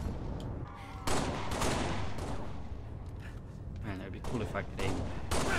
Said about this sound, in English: Shot you in the chest and got a headshot